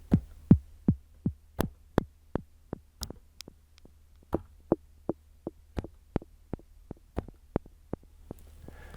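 A steady series of faint, short percussive clicks from a drum machine with very low decay, each followed by a quick soft delay echo, repeating at an uneven pace over a low hum.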